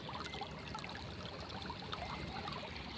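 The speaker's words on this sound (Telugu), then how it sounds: "నీళ్ళు గండ్లు తీయడం వల్ల హెవీగా లోతయి ఇట్లా కొట్టుకుపోతుంది" Irrigation water flows through the channels of a farm field, gushing through breaches that are washing out deep. The rushing and trickling is a steady, continuous wash, faint and close, with no talking.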